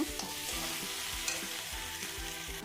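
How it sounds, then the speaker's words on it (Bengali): Garlic and a ground ginger-cumin paste sauté in a pan for a tengra fish curry, with a close, steady sizzle and quick rhythmic scrapes of stirring. "এরপর আমি আদা জিরে একসাথে করে বেটে রাখা এটা আমি দিয়ে দিচ্ছি দিয়ে আমি ভালো করে কষিয়ে নেব"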